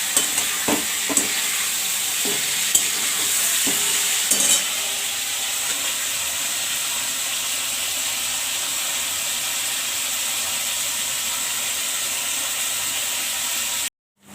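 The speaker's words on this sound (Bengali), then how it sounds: "চিকেনটা নুন হলুদ আর গোলমরিচ দিয়ে চিকেনটাকে একটু ভেজে নিচ্ছি" Chicken seasoned with salt, turmeric and pepper fries in a pan with a steady loud sizzle and hiss, a few stirring knocks early on, then continuous frying until an abrupt cutoff at the end.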